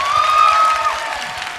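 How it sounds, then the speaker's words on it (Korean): A concert audience applauds and cheers after a joint performance on a stage, a short, fairly loud wash of crowd noise with a sustained high cheer in it. "박수 부탁드릴게요"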